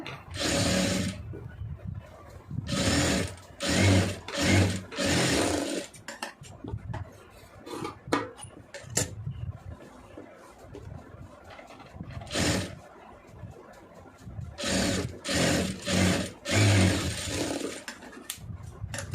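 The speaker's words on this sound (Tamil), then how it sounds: "இப்போ நம்ம அதை ஓவர்லாக் போட்டு கழுத்து பீஸ் அடிச்சிடலாம்" An overlock sewing machine stitches the neck piece of a blouse in loud, close bursts of fast whirring, starting and stopping repeatedly with brief gaps and some handling noise between runs, and no one speaking.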